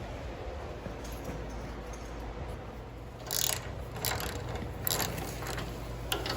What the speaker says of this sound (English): We're going to loosen up these bolts and give us some more slack here on our adjusters.